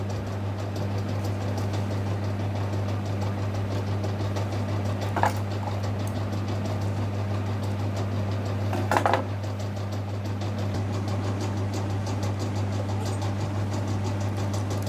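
A zigzag sewing machine stitches the fall onto a saree hem with a steady, continuous mechanical whir and hum throughout, close by, with a couple of faint clicks and no speech.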